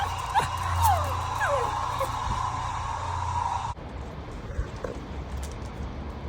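A dog yips and whimpers in short high cries over a steady low background hum, moderately close, with a voice faintly underneath.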